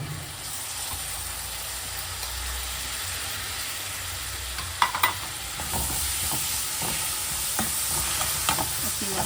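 Chopped tomatoes frying in a pan with a steady loud sizzle, and a spoon scraping and stirring now and then with a few sharp clinks midway, heard close.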